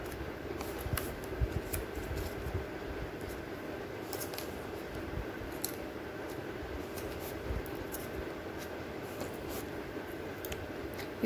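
Scissors snip paper pieces for leaf wall decor in a steady run of soft, close cuts over a constant background hum, with no one talking.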